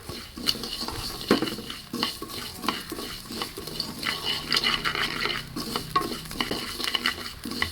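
Cashews fry in oil in a pan while a utensil stirs them, giving steady sizzling under repeated scraping and clinking strokes of metal against the pan, close and moderately loud throughout.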